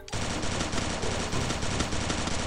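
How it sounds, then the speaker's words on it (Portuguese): Rapid, continuous automatic gunfire from a Free Fire match, loud and close, a dense unbroken burst filling the whole moment with no talk over it. "Ô, mãe, para de atirar em mim, mãe."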